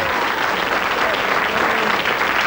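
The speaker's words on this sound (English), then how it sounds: "give him a round of applause as he goes there" An audience breaks into dense, steady applause for a man returning to his seat, many hands clapping at once in a continuous wash of sound at even loudness throughout.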